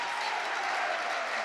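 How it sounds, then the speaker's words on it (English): Spectators at a boccia team match applaud in a steady, dense patter of clapping, close and continuous throughout. "The crowd is cheering for them"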